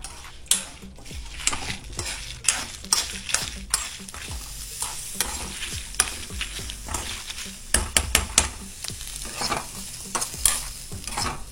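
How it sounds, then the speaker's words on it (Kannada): Continuous frying sizzle under repeated clinks and scrapes of a spoon against a pan, stirring in a quick, irregular rhythm. "ಎಲ್ಲದನ್ನು ಸೇರಿಸಿ ಹುರ್ಕೊಳ್ತಾ ಇದೀನಿ"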